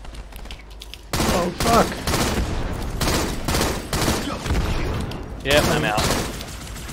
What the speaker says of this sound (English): Why is everyone shooting each other?